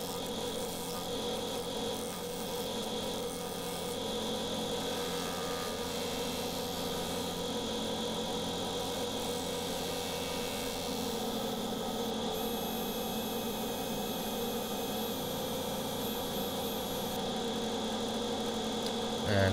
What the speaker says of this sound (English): And 80 grit up to 600 on the old sander.